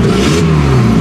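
A turbocharged car engine revs loudly and close during a cold launch attempt, a steady droning roar with a slight dip in pitch partway through, no talking.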